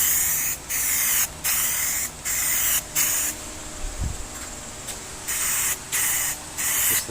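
A thin coat is sprayed onto the dash of a '76 square body crew cab truck in about six short hissing bursts, close and loud, with brief quiet gaps between them.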